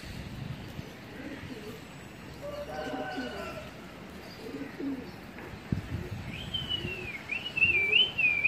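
Pigeons being flown by a hobby keeper coo and call in bursts, with bird whistles and chirps scattered across the clip, some nearer and louder toward the end, over a steady outdoor background.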